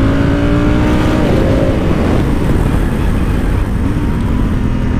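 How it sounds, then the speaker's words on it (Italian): Honda Africa Twin twin-cylinder motorcycle engine under way, a steady loud drone with low rumble and a faint rising pitch, heavy wind noise throughout. "Un sound tipico da bicilindrico"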